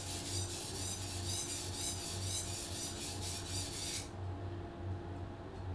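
Repeated rasping strokes of a knife blade being sharpened, worked on one side and then flipped over, fill the first four seconds with steady scraping before the sound drops to a quieter background hum.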